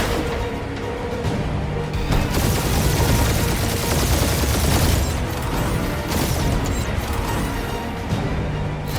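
A relentless weapon barrage in the action game Guardians of the Galaxy, a dense continuous roar of blasts and impacts with booming crashes, loud and sustained throughout.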